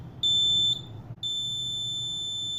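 Two piercing electronic tones from an Arduino buzzer's warning alert, the first about half a second long, then a brief gap before a second continuous tone holds on.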